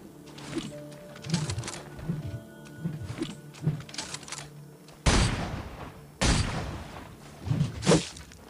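Gunfire in the video game Pascal's Wager: irregular bursts of sharp shots, some louder blasts near the end, over a quieter background of game sounds.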